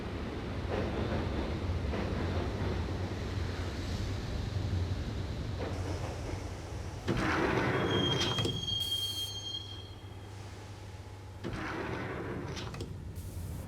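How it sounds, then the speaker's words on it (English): A subway train ride in the video game Max Payne: a continuous rumbling rail roar with metallic wheel squeals and a sharp high screech midway, moderately loud and steady. "the train doors had already shut behind me, and I was in for the ride"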